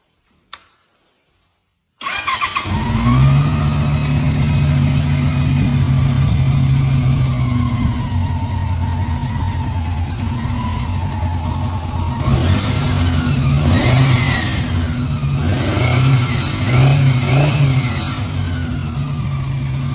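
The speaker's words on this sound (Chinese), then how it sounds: "它现在已經可以完美啟動，怠速平穩 ，CB 的經典噪音也還在" A restored 1997 Honda CB400 four-cylinder motorcycle catches after a short quiet pause and settles into a loud, steady idle. Several sharper revs rise and fall near the middle before it returns to a smooth idle.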